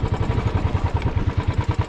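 Motorcycle engine running steadily nearby in the parking area of a kalij pheasant farm and resort, a loud, even low thumping pulse with no one talking.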